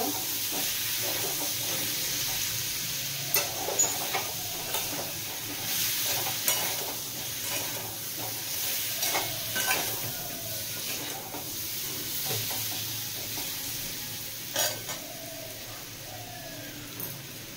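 Hog plum chutney fries in a pan with Kashmiri chili powder, giving a continuous soft sizzle with intermittent stirring scrapes and clicks, close and moderately quiet, no talking.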